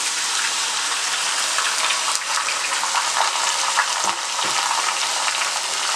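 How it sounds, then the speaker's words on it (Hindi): Chicken legs hitting a hot oiled pan for a chicken masala, giving a steady loud sizzle and frying hiss that runs without a break, with a faint stir or scrape near the middle. "अब इसमें चिकन डालूंगी, चिकन लेग्स डाल दें अब इसमें।"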